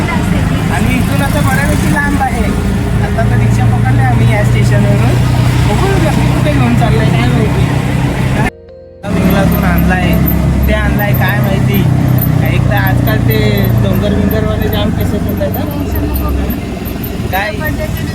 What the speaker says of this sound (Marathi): आता तर रिक्षा पकडले आम्ही या स्टेशनवरून.